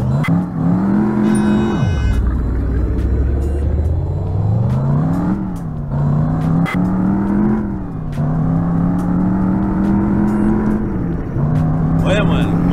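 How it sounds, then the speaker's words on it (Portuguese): A loud racing car engine in a driving video game revs up and down through repeated gear shifts, with steady high-pitched whine and occasional drops, continuous and close. "O carro tá andando demais, mano."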